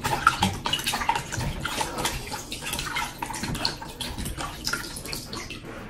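Water runs and splashes steadily as cow skin, shaki and fish bone are washed for okro pepper soup, with dense broadband gushing and small irregular drips and clatters close by, no talking.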